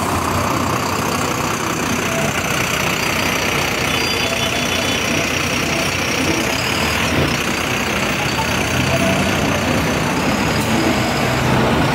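Volvo double-decker buses idle and crawl through congested Hong Kong street traffic on Tsim Sha Tsui Road, a dense continuous engine rumble mixed with city noise and a faint passing whine, with no clear voices.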